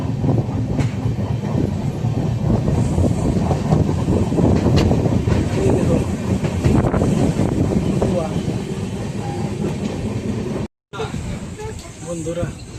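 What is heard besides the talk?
train entering Purulia railway station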